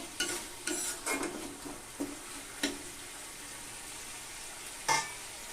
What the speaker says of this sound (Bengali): তো টমেটোগুলোকে দিয়ে একটু কষিয়ে নিলাম